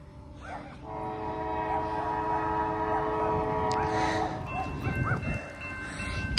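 A train passes on Ohio tracks, its horn blaring a loud, sustained multi-tone chord for several seconds over heavy rail rumble, then fading into rolling wheel noise.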